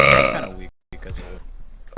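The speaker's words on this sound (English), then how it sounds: "That was a big burp." A single big, loud, drawn-out burp from a Twitch streamer right up close. After a brief silence, she talks quietly.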